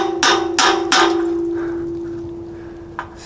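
Hammer blows on a fence under construction: three quick ringing metallic strikes in a row, then a lingering hum as they fade, and one lighter tap near the end, close and loud with no talking.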